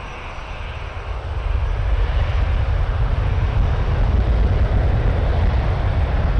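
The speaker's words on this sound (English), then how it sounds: "This Delta 737-800 is headed to Salt Lake City." A Delta Boeing 737-800 departs Toronto Pearson bound for Salt Lake City, its jet engines a loud, steady, broadband roar that swells within the first second or two and then holds without any voices.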